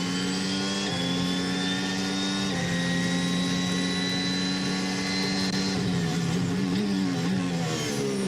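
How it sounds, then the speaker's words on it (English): A Formula 1 car at Monaco qualifying screams past at high revs, a loud sustained whine with gear changes shifting the pitch up and down through the corners, heard close and continuous. "Let's listen to the car sing."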